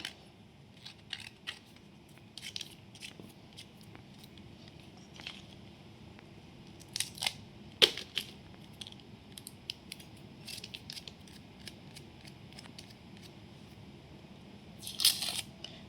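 Raw mango cut for pickle, soft sparse snips and crunchy cuts spaced out over a quiet background, with a small cluster of louder cuts midway and near the end, no speech.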